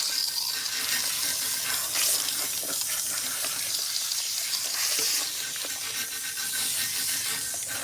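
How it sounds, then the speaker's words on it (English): Water from a salon tap runs and splashes as biotin shampoo is rinsed out of hair, a steady hissing spray with scrubbing and handling noises, close and continuous, without speech. "So I'm rinsing out the biotin shampoo"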